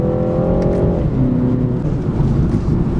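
A BMW G20 3 Series in sport mode takes a corner, its engine note loud and close, with a steady drone that shifts in pitch as it pulls through the turn. Road and cabin noise sit underneath.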